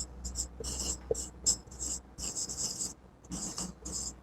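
Pen writing on paper during an accounting lesson, short scratchy strokes in quick bursts with brief pauses between them, close and fairly quiet, no speech.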